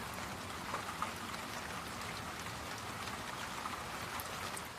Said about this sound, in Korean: 이 고음, 아주 하이피치의 영역을 제거하고 중간 영역대와 저음 영역대를 조금 더 보강한 소리, 비가 내리는 소리 정도로 이해하실 수 있을 것 같습니다.